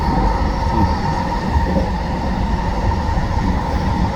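Freight train passing close near Sapperton station, a continuous heavy rumble of rolling wagons with wheel noise, loud and steady throughout.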